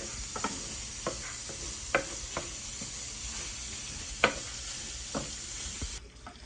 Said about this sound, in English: Now this browning can take anywhere between 8 to 10 minutes.